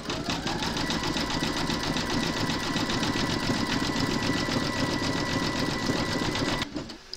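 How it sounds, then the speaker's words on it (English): An embroidery machine runs a satin stitch around a window on a gingerbread house design, a loud, close, rapid and even mechanical chatter that halts abruptly near the end. "then you're going to stitch round number 12"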